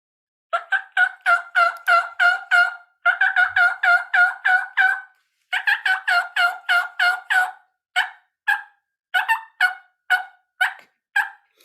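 A turkey mouth call imitates putts and clucks, giving many short, sharp staccato notes in quick bursts with brief pauses between them, close and clear with no talking.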